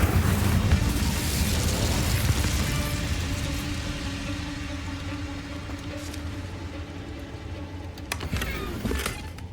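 Incendio fire spell cast in Hogwarts Legacy: a loud roaring burst of flame that slowly fades into a dull rumble over several seconds, ending with a few sharp clicking game effects.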